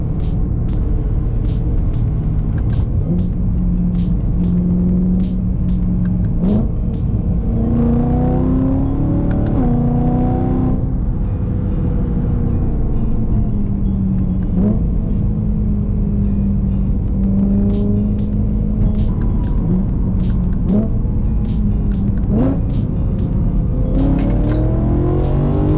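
An E90 BMW M3 on Eibach lowering springs drops a gear and pulls away. Its engine note climbs in repeated rising sweeps with clear revving swells, and the car stays close and loud the whole time.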